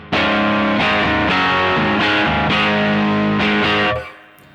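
Electric guitar played through a distortion effect, heavy sustained chords struck in a steady pattern of about six strums, loud and close with no talking, ending in a brief fading tail.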